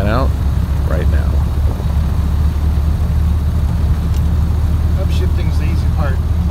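A 1929 Ford Model A four-door car engine runs at a steady low rumble throughout, with a person talking over it.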